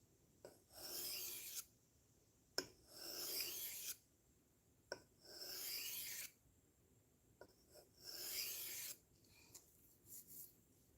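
A blade is sharpened on sharpening stones in about five long rasping strokes, each separated by a short pause. The scraping is close and clear, with no talking.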